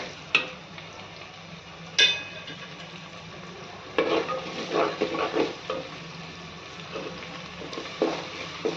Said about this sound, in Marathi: आता त्याच्यामध्ये आलं लसणाची पेस्ट घालून घेऊयात तीही छान भाजून घेऊयात